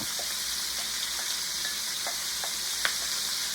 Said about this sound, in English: now we're going to add the onions to the oil and cook them